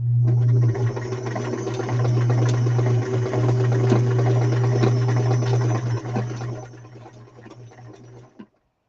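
A sewing machine runs a regular stitch through fabric for a journal project. Its motor hums loud and steady for about eight seconds, with a fast chattering of stitches on top, and then it stops abruptly.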